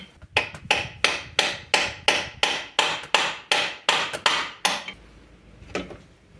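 Hammer blows driving a bolt through the alternator mount of a diesel Alfa Romeo: about a dozen sharp, evenly spaced metallic strikes at a steady pace, then they stop.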